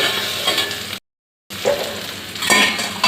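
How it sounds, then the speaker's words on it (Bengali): Potatoes fry in a pan at home, sizzling steadily and loudly with stirring scrapes, broken by a brief gap of silence before the sizzle resumes. "ওর জন্য একটু আলু ভাজা করছি"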